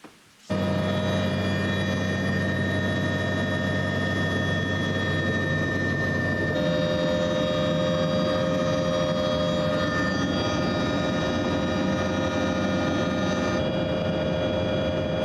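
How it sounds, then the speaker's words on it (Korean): A helicopter flies over Hawke's Bay, New Zealand, heard from inside the cabin. The engine and rotor drone is loud and continuous, with steady tonal whine, and the pitch shifts slightly partway through. No talk. "그곳에서 만난 일행과 헬리콥터를 타게 됐다."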